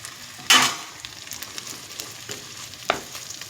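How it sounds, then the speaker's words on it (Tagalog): Food frying in oil while making Chinese rice dumplings (batchang), with a brief loud sizzle burst early on and a smaller crackle near the end over a low, steady frying hiss. "So, i-fry muna natin siya sa oil."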